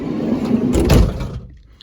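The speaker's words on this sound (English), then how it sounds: "Go ahead and close up the door." The sliding side door of a 2015 Promaster camper van rolls and shuts, a loud broad rumble that swells near the middle and then drops away to quiet.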